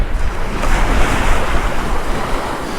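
Strong wind gusting across a beach during a sea fishing session at Tunstall on the UK east coast, a loud, constant roar with buffeting against the microphone and a surf-like wash, no voices.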